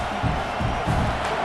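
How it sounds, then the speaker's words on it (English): Stadium crowd in the EA Sports College Football 26 video game, a steady broad roar with swelling cheers under commentary, close and continuous throughout. "this crowd coming to life here, trying to help the defense get a stop with the offense pinned back"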